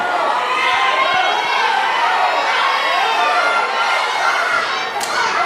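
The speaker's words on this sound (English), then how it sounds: "Oh, this crowd is sadistic. They want some more." A wrestling crowd roars continuously, cheering and shouting for more action, a dense, loud wall of voices with scattered thumps underneath.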